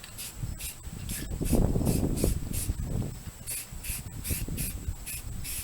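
High-temp ceramic paint sprayed from an aerosol can onto turbo exhaust manifolds and a crossover pipe, a series of short, close hissing bursts in an uneven rhythm with faint rattling and handling noise between them.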